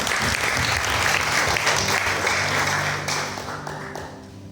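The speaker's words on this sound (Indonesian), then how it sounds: "Kita mau beri tepuk tangan untuk Tuhan kita yang luar biasa." A church congregation gives loud, sustained applause during a Sunday service, the dense clapping holding steady before slowly fading away toward the end.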